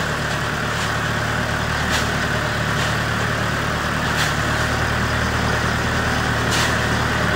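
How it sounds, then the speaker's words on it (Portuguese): An LS 160 tractor engine runs steadily at working throttle in a banana field while spreading fertiliser, a continuous close, loud mechanical drone with no pauses. "Esse trator aqui é um LS 160"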